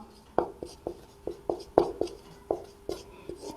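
Chalk or marker strokes on a board during a maths lesson, a series of short sharp taps and scratches in an uneven rhythm, close and moderately loud, with no talking.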